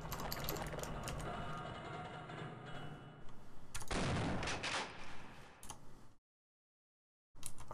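Gunfire in Half-Life: Opposing Force, a dense clatter of rapid shots and mechanical ticks, followed by a louder burst, then abrupt silence before the noise returns.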